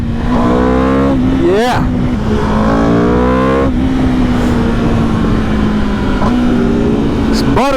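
The engine of a 2024 Aprilia RSV4 1100 Factory motorcycle revs loudly and close up on a test ride, climbing through the gears with repeated pitch rises and quick shift breaks, with heavy wind noise and a brief spoken word.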